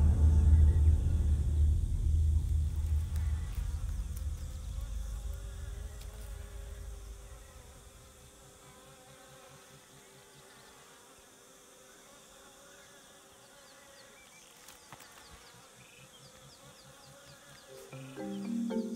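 A swarm of biting insects buzzes around lions on African grass plains, a thick, close droning hum with a low rumble that fades partway through, then swells again at the end, with no speech.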